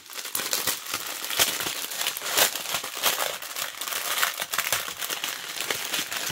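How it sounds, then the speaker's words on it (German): Thin plastic wrapping bag crinkles and rustles steadily while being pulled open, a close, continuous crackling with sharp bursts, no voices. "Ich suche mal gerade den Anfang von der Tüte."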